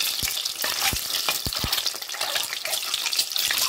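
Boiled eggs fry in a pan, turning golden on both sides, giving a constant close hiss and crackle of hot oil with sharp pops and spits scattered throughout.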